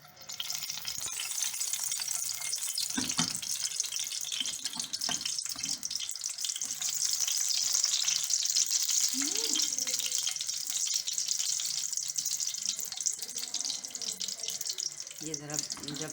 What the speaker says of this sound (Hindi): ये गर्म हो जाएगा ऑयल। तो मैं इसमें डालूँगी बटन चिली